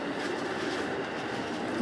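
Steady rumbling roar of a Chiyoda Line subway train running between Shin-Ochanomizu and Otemachi, heard from inside with dense broadband rail noise and no talking.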